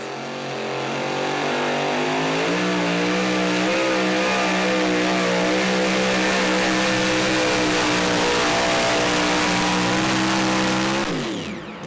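Unlimited super stock pulling truck at a Saluda, South Carolina tractor pull, its engine roaring loud and steady at wide open throttle for the whole run, then cutting off abruptly at the end.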